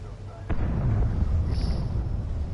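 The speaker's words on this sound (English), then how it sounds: "Big explosion, clearly." One sudden loud blast from a big explosion in Batman: The Enemy Within, followed by a sustained heavy rumble that fills the rest of the moment, with a faint high whine above it.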